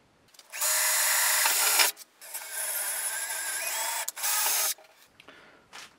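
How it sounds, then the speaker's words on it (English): A drill drives an M4 screw into thin sheet metal during an upgrade on a K40 laser cutter. Two loud, close whirring bursts of grinding are separated by short pauses, and a brief softer burst follows near the end. "M4 screws, and just gonna try and tap this thin sheet metal"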